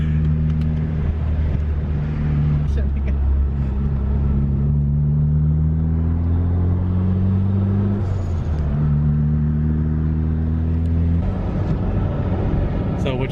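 A car travels along a road, its steady engine rumble and tyre drone continuous and close throughout, with pitch shifting as it changes speed and gears, and no talk heard.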